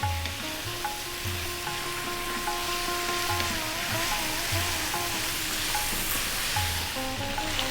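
Pepper chicken (milagu kozhi varuval) sizzles and fries in a pan while being stirred often, a steady close sizzle with periodic low scraping strokes of the stirring utensil and faint tonal hum, no speech.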